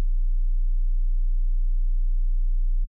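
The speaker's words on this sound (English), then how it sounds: "let's add 10 hertz to get 30 hertz." A very low, steady 30 Hz sine tone holds evenly for nearly three seconds, then cuts off abruptly, leaving silence.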